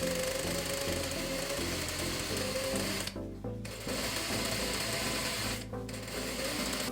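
A sewing machine stitching a fabric ruffle for a vintage dress, a steady fast mechanical whir with two short pauses, close and alone.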